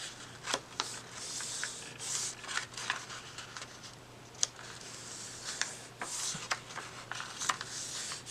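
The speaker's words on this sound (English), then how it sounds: "I'll give this a few folds to sort of roll the edge" Paper being folded over several times to roll its edge while making a scrappy notebook, giving soft, close crinkles, rubs and light taps scattered irregularly at low volume.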